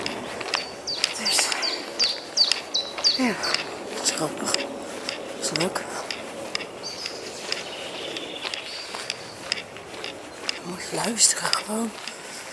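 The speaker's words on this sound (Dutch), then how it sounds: "de voetstappen en de vogeltjes." Small birds chirp and tweet among blossoming trees in a park, with footsteps walking along a path, the calls scattered and fairly close.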